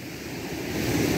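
Close roar of sea surf washing in, a dense, rumbling wash of waves that swells slightly louder toward the end, with some wind noise.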